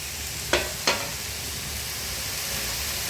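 Onions, tomatoes and dried red chilies sizzle steadily in a pan, with a continuous frying hiss and two sharp stirring clatters early on, no talking.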